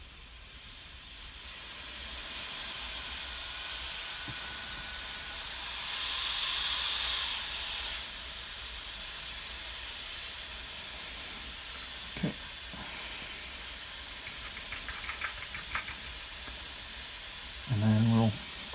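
Compressed air blasting through a CNC machine's mist coolant system, a loud sustained hiss that swells after a couple of seconds and holds steady, with a faint high whistle and brief knocks and voices near the end.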